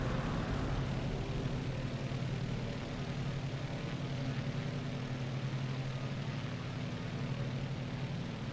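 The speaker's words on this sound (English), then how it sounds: "I hear a jet." A jet aircraft in Microsoft Flight Simulator makes a constant rushing roar, a broad, fairly quiet engine drone that holds level the whole time with no break.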